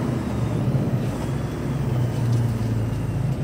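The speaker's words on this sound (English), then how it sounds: "That was all engine brake. I did not touch the pedals." A 2017 Cummins truck engine, engine-braking as it slows down, makes a steady, heavy, low rumbling drone that stays close and even throughout with no talking.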